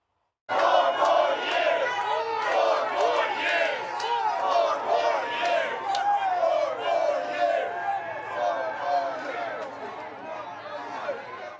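A dense crowd at a Harlem bodega in Manhattan cheers and shouts for Donald Trump during a campaign stop, a loud, continuous roar of voices with rhythmic whoops and chanting that stays close and steady throughout.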